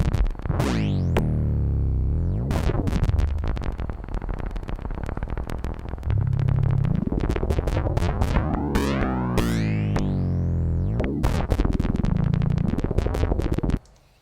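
Modular synth filters on a Kunsa pinged by gates from an Usta sequencer, with the cutoff swept by hand: dense, resonant tonal pings and swooping filter sweeps play continuously and loudly throughout, with no talking.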